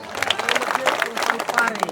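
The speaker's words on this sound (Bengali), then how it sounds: "একটা জোরে হাত তালি সবাই" An audience at an office celebration in Bangladesh claps hands in a dense, steady burst of applause lasting the whole stretch, mixed with voices speaking over it.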